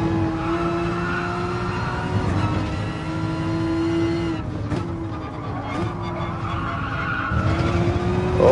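Race car tires squeal and skid in the Gran Turismo Sport video game, a loud sustained screech over a droning engine, dipping briefly mid-way before the squeal resumes and rises again near the end.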